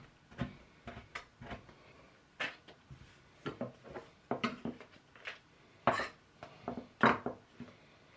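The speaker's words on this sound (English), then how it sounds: "So I'm just chopping it a bit and then put it to one side for later." A knife chops lemon peel on a cutting board in a kitchen, producing irregular quiet taps and thuds in short bursts, close and fairly faint with no talking.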